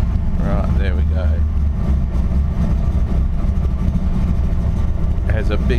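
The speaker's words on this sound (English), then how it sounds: "It has a big wild cam, as you can hear, but it idles at just a rough idle." A Datsun 240Z engine with a big wild cam, cold-started, idles roughly with a loud, steady low rumble and uneven loping pulses close by, alone without talk.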